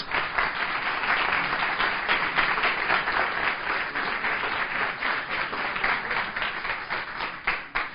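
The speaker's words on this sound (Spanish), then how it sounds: "quiero pedir un fortísimo aplauso para Ana María Vázquez Ois" Sustained applause from a crowd, a dense steady wash of many hands clapping at even loudness for the whole stretch, no voices standing out.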